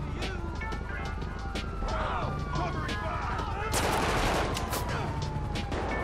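Gunfire in the GTA V video game, scattered shots popping at a distance with a denser burst partway through, mixed with a continuous rumble of game noise and some talk.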